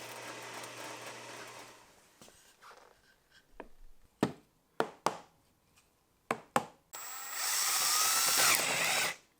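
A drill bit bores into a wooden test fireplace mantle, tearing out the grain. A loud whirring burst at the start gives way to sharp clicks and knocks, then a sustained, harsh, high drilling roar near the end.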